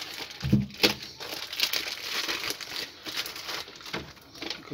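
Adhesive tape crackles and tears off a parcel while it is unpacked, with several sharp bursts of ripping and crinkling at irregular intervals, close to the microphone.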